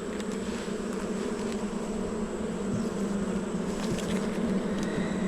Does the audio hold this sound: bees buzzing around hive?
yes